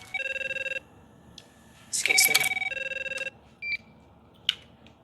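A telephone rings in a tense thriller scene, with repeated electronic trilling bursts over quiet background, loud and close, as a person briefly speaks between the rings.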